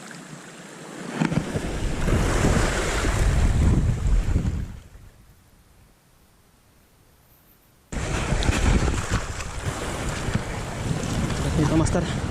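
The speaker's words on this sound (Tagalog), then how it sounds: "ito medyo malit ang alon dito" Surf washes and crashes against a rocky shore amid gusty wind buffeting the microphone, with a brief quieter lull midway before the roar returns.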